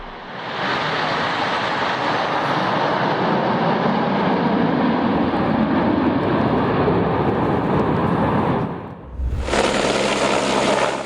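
Red Arrows and Patrouille de France jets roar through a joint aerobatic display, a loud sustained engine rush that fades briefly near the end before another sharp burst.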